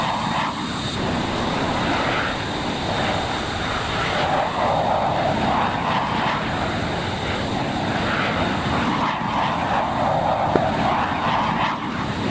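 Steady engine roar of a jet aircraft in a flight simulator game, held close after refuelling from a tanker, a continuous broadband drone with no pauses.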